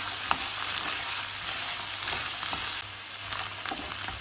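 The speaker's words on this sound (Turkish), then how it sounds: "Fasulyelerimizi de ilave edelim. Onları da şöyle bir çevirelim." Fresh beans frying in a pan with tomato paste while being stirred for a meatless bean dish, a steady close sizzle with scraping stir strokes across the whole stretch.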